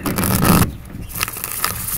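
A deck of tarot cards being shuffled, with a dense, continuous riffling scrape that cuts off abruptly, then softer, sparse card flicks and taps. Close and fairly loud, with no talking.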